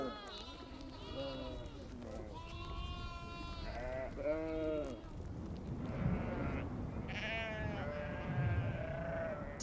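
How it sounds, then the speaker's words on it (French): Ewes bleat repeatedly at a lamb farm, several wavering calls near and far overlapping through the stretch, with someone talking over them. "Et les brebis se joignent à moi pour"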